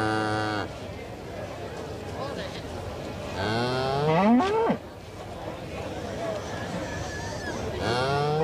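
Cattle at a King Island agricultural show, where a herd is being judged, give several loud, drawn-out moos, one rising long call in the middle and another at the end, over a background of crowd murmur.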